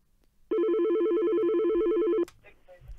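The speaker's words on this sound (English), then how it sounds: "Another phone call coming through" An incoming phone call rings on a live football fan phone-in show, a loud electronic warbling tone held steadily for nearly two seconds before it cuts off, followed by faint studio noise.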